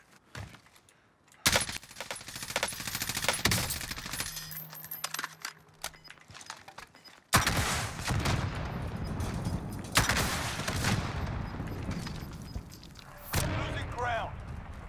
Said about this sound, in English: let me win this gunfight real quick